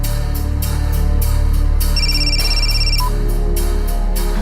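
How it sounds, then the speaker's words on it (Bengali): A telephone rings in a tense indoor scene of a crime drama, a brief high electronic ring over a loud, steady low background hum, no speech. "ফোনটা ধর"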